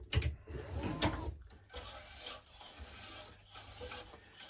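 Squash racket being strung with thin Tecnifibre string, tension pulled through and clamped: a rasping, rubbing drag of string with a sharp click near the start, then softer scraping strokes, close and quiet.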